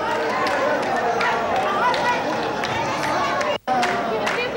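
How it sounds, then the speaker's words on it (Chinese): Relatives and family crowd around a boy at a bar mitzvah at the Western Wall in Jerusalem, a lively, continuous din of many overlapping voices with scattered calls and claps. "亲友们为家族里的少年欢呼撒糖"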